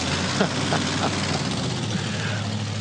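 A JCB backhoe GT tractor roars at about 112 km/h around the Bathurst race track during the 2014 Bathurst 1000, a loud, constant, heavy engine drone mixed with wind noise, with a voice faintly present.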